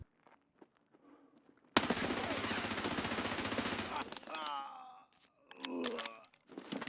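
Escape From Tarkov gunfire opens with a sudden, sustained burst of loud automatic fire lasting a couple of seconds, then fades into quieter in-game sounds and speech.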